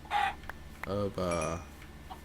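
Video game chickens cluck in a few short, close bursts, with faint background tones between them.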